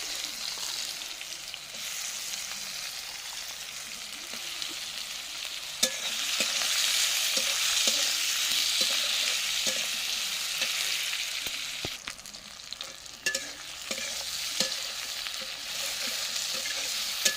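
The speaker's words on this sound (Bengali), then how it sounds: "পেঁয়াজটা ভালো করে লাল লাল করে ভেজে নিয়েছি" Chopped onions fry in a clay pot with a steady, bright sizzle that runs the whole time, broken by sharp clicks and scrapes of a spoon stirring against the pot. No one speaks.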